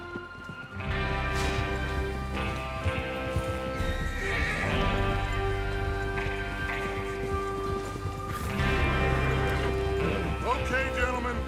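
Horses whinny and hooves clip-clop in a busy Red Dead Redemption 2 scene as riders set out to rob a train, with neighing rising over galloping and a low musical backdrop.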